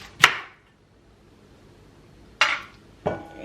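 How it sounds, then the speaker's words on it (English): A knife works against the thick skin of sweet cassava, making three sharp, close, scraping clinks: one at the start, then two more after a long quiet gap. There is no talking. "So you have to peel it, and the skin is very thick."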